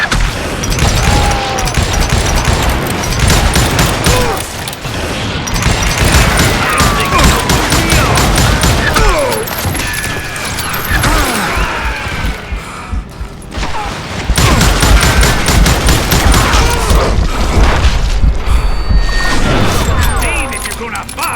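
Dense, continuous gunfire and booming impacts during a video game shootout with bandits, with bursts of shots and crashes layered under shouted talk throughout.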